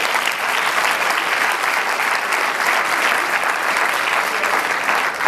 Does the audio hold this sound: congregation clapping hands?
yes